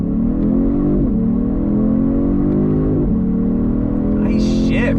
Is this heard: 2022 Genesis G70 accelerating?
yes